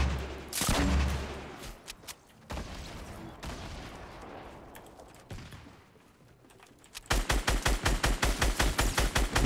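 Rapid bursts of video game gunfire in a duo battle royale match: scattered shots early, then a loud, evenly spaced automatic volley near the end, with keyboard clicks audible between.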